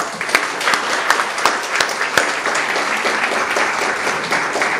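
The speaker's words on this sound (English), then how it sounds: "with a hand of applause, thank our 4 exemplar speakers for all their contributions today" Audience applause thanking four speakers at a shipping industry conference on cybersecurity and regulatory changes: dense, steady clapping with sharp individual claps poking through, sustained and fairly loud throughout.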